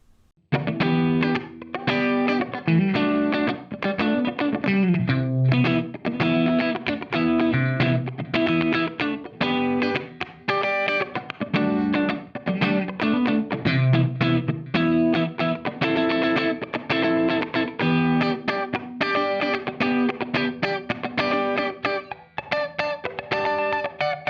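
A clean electric guitar with Seymour Duncan Hot Chicken pickups in a Strat, through a clean American-voiced amp, plays a busy, rhythmic funk-style part with a bright, evenly compressed tone and a touch of room ambience, continuous throughout.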